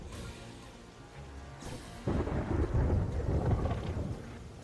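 A Terraria thunderstorm, with rain hissing steadily before a loud thunderclap breaks in partway through and rolls on as a heavy rumble over the downpour.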